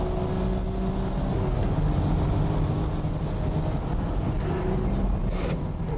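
A Porsche 996 Turbo races a Nismo car, its engine a low, steady drone with faint tonal whine, heard from a distance through buffeting wind noise and without any talking.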